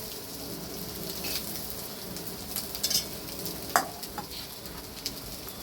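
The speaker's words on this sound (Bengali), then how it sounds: "আমি কিছুটা সবজি তুলে নেব, দুভাগে ভাগ করে ভেজে নেব" Vegetables for mixed fried rice sizzle steadily in a hot pan, with a few sharp clinks of stirring near the middle and end, alone without talk.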